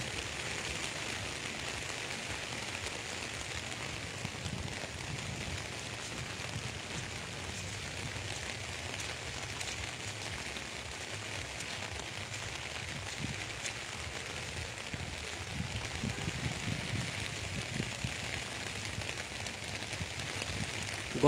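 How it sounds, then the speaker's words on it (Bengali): Continuous rain falls steadily in Comilla near the Gumti River, an even, unbroken wash of rainfall with no pauses throughout. "সকাল থেকে টানা বৃষ্টি হচ্ছে, এক মুহূর্তের জন্য বৃষ্টি থামছে না।"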